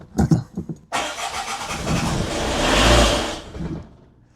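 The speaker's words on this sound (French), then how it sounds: "on a réussi à le faire démarrer, presque." An old Peugeot 205 car saved from the scrapyard cranks with a few sputtering turns, then the engine catches and roars up in a rising rev before settling and fading, close and loud.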